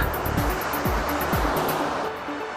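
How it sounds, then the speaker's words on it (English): Steady broadband roar of ocean surf at Myrtle Beach, waves breaking continuously, with a low engine-like hum and faint tonal sweeps underneath. "The waves are picking up."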